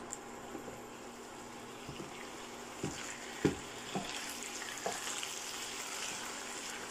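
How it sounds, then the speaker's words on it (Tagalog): Pork and tofu with taosi sauce being stirred in a pan, a soft continuous sizzle with a few scattered scraping clinks of the utensil against the pan, fairly quiet. "I-mix lang natin mabuti para mag-incorporate ang sauce"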